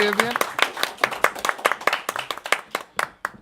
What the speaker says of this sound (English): let's do a round of applause for our sponsors for tonight